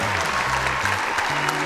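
A crowd at the finale of the show Ranina breaks into warm, continuous applause, a thick steady patter of hands over low sustained musical tones.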